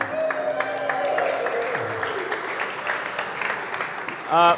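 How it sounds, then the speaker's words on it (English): Crowd at a Brew Talks event at Revolution Brewing in Chicago applauding Don Bixel, sustained clapping with cheering and some voices mixed in, tapering off near the end. "Give it up for Don, everyone."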